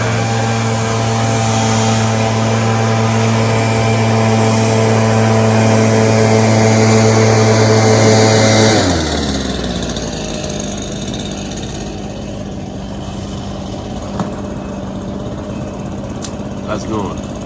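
A loud, steady motor drone with a strong hum runs close by for about nine seconds, then cuts out, leaving quieter background noise and voices.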